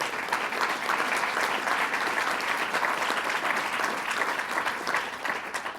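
A crowd at a climate change event gives Wendy Abrams a round of applause, a thick, even roar of many hands clapping that holds steady for several seconds.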